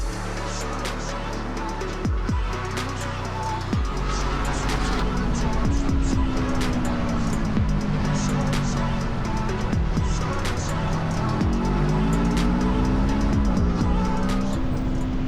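An Aprilia racing motorcycle screams around a race track, its engine note rising and falling through gear changes and corners in a loud continuous rasp, with occasional voices faintly underneath.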